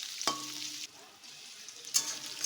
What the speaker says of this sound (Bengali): পেঁয়াজটা একটুখানি ভাজা ভাজা হয়ে গেছে